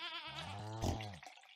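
A sheep in the farming video game Stardew Valley lets out a single wavering bleat, clear and fairly close, trailing off into a brief quiet tail.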